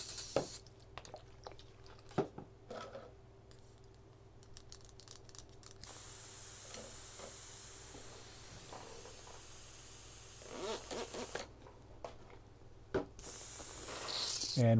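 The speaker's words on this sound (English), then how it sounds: "let me get rid of the orange real quick" Airbrush spraying out leftover orange paint in short hissing bursts with gaps between, then a steadier, louder spray toward the end; close and fairly quiet, with no talking.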